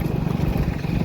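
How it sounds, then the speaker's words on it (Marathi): A small mini tractor engine chugs steadily at close range with a low, rough, continuous throb, heard alongside wind and road noise from a rainy-season ride. "Mini tractor."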